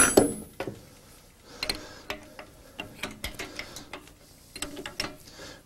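Jack screws are snugged up during a pipe axle alignment with a ratcheting tool, producing a series of sharp metallic clicks and ticks at a steady, close rhythm, with no talk.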